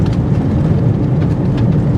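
Small BBs and pellets in boxes rattle inside a moving 2021 Buick Encore SUV, a constant low rumble of road and cabin noise with faint shaking rattles over it.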